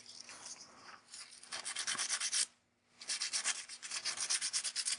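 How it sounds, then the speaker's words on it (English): Light sanding of varnished watercolor paper: soft rhythmic rubbing strokes, steady and close, with one brief pause midway before the scraping resumes. "you don't want to sand, you just want to buff it slightly to take away some of the raised areas"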